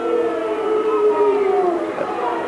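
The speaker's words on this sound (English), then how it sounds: "A team's supporters who've just scored 48 points booing the referee" Rugby league supporters booing the referee at a Bradford versus Huddersfield match, a sustained, loud, wavering drone of crowd voices rising and falling in pitch.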